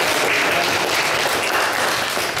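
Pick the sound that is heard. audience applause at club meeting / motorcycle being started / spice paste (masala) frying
audience applause at club meeting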